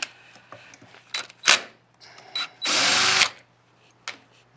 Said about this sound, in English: 8mm socket with a Phillips head screw gun